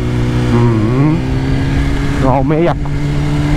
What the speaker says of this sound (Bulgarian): Бръм. Моторчето.